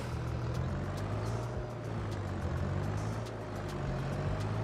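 A heavy farm vehicle's engine runs at full throttle under load in Farming Simulator 22, a steady loud low drone with constant rumble throughout.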